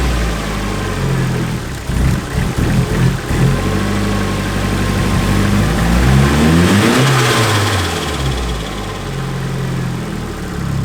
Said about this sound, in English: It has really, really bad idle recovery. It idles fine, it idles a little high.